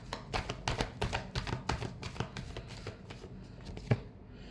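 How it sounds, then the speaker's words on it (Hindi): A tarot deck is shuffled close up in a rapid run of crisp riffling snaps and taps that gradually thin out, with no voices. "Last shuffle."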